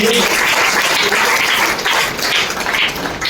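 Loud, sustained applause from an audience at a network marketing gathering, clapping for Niranjan Mohanty, with dense overlapping claps filling the room continuously without a break.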